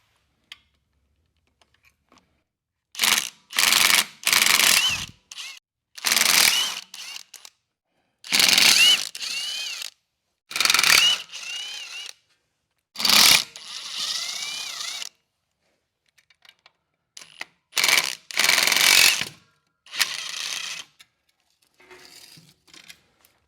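A ratchet wrench loosens the flywheel and ring-gear bolts on the crankshaft of a 1949 Willys truck, heard up close as repeated bursts of rapid mechanical clicking separated by short pauses.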